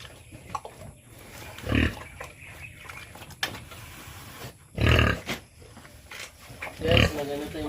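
Pigs grunting on a farm, three loud bursts of low grunts spaced a second or two apart, with quieter snorts and rustling in between.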